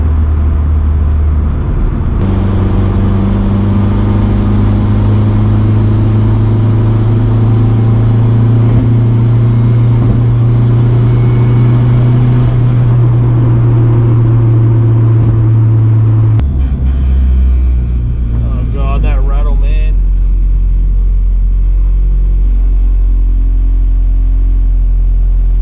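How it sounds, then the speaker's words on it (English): Turbocharged EK Honda Civic running on E85 under a Haltech ECU, its engine droning loud and steady from inside the cabin with strong intake induction noise, then the tone drops sharply partway through and rumbles on lower. "A lot more induction noise through that intake pipe as well."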